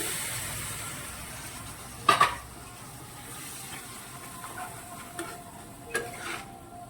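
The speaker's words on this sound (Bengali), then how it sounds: "এখন বেশ কিছুটা সময় ধরে মশলাটাকে কষাবো।" Masala for aloo potol chingri sautés quietly in a pan after the spice-rinsing water goes in, a low steady sizzle broken by a couple of sharp scraping stirs and softer clinks, close but faint, with no talk.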